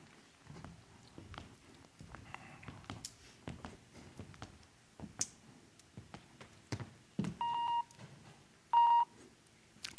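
Beacon-linked smartphone alarm giving two short, loud steady electronic beeps near the end, following assorted handling clicks and taps around a table.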